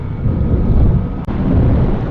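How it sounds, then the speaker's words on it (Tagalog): Strong wind roars against the microphone while riding a Yamaha Aerox scooter on a rough road, a dense low buffeting with one brief dropout midway. "lakas ng hangin"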